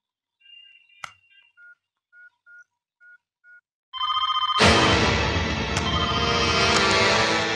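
A landline telephone is dialed in a Hindi film scene: a string of short, evenly spaced touch-tone beeps, then a loud, sustained ringing tone on the line.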